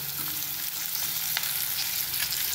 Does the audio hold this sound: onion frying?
yes